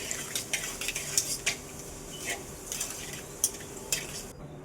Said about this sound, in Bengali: দিয়ে দিচ্ছি শুকনো লঙ্কা, এবার দিয়ে দেব কালো জিরে। নাড়াচাড়া করে নিচ্ছি।